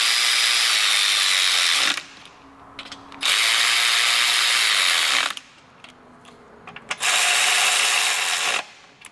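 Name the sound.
tightening bolts on Piaggio BV400 scooter rear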